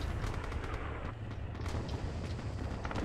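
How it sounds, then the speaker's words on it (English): Machine-gun fire in Red Orchestra 2 rattles in sustained, distant bursts amid scattered rifle shots and rumbling battlefield noise, steady and fairly faint throughout. "They're shooting at us with an MG as well. I can hear that."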